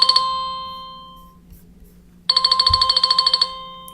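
A WordPress website chat system's incoming-chat alert rings in repeated bursts of bright electronic chiming, one burst fading out, then after a short gap another fast run of tones resumes, clear and alone.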